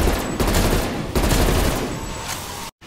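Dense, loud gunfire from a Call of Duty Cold War match, a sustained fusillade of overlapping shots with a few sharper cracks, running nearly three seconds before cutting off abruptly.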